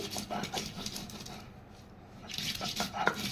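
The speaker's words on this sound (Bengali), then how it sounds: "আমগুলো প্রথমে আমি বেটে নিচ্ছি" Raw green mangoes are ground into a paste by hand, probably on a stone, giving a steady gritty scraping and knocking that fades briefly mid-way and then returns with a sharper clack near the end.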